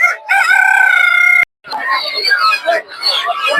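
A rooster crows loudly and close, a long sustained call, followed by clucking native chickens and voices in a noisy, busy rural village market in Golakandail, Bangladesh.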